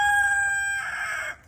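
A single rooster on a chicken farm crows close by in one brief, bright, strained call that ends abruptly.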